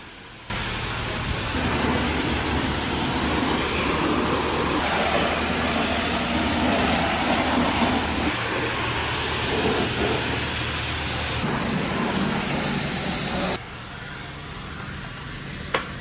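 Water sprays onto a car from top to bottom during a budget DIY wash, a steady, loud hiss of spray that runs unbroken for most of the stretch before dropping off near the end.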